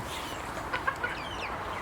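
Soft rooster clucks, a few brief calls near the middle over a quiet outdoor background with faint chirps.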